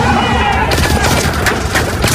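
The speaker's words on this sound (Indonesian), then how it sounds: "tiba-tiba mendengar suara tembakan, para geng motor keluar lalu menembaki mobil Cole." Rapid gunfire crackles and booms as a motorcycle gang shoots at a car in a film scene, dense overlapping shots with a mix of soundtrack noise, loud and close throughout.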